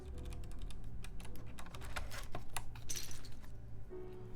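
Keys clack in quick irregular bursts on a Cherry G80-1813 Dolch PAC keyboard with pingy switches, close and fairly loud, with metallic ringing after some keystrokes.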